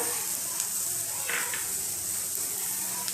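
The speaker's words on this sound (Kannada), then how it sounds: "ಹೆಸರು ಕಾಳು ಹುರಿದಿದ್ದ ಬಾಣಲೆಗೆ ಬಿಸಿ ಇರುತ್ತೆ. ಇವಾಗಲೇ ಈರುಳ್ಳಿ ಕರ್ಕೊಳ್ಳೋಣ." Sliced onions going into a hot pan just emptied of roasted green gram, giving a soft, steady sizzle with a couple of faint stirring scrapes, fairly quiet throughout.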